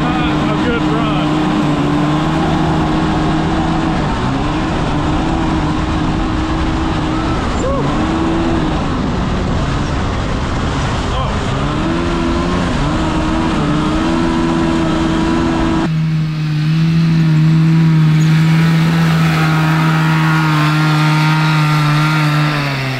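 A go-kart powered by a 440cc snowmobile engine runs with a loud, sustained droning buzz whose pitch rises and falls as it revs, with people talking over it.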